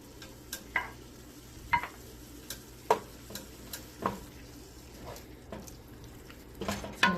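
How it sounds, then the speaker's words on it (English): Diced chilies being stirred into a pan of browned beef for enchiladas, with a steady run of close spoon scrapes and taps at an uneven rhythm over a faint background sizzle. "I'm going to go ahead and add the diced chilies now."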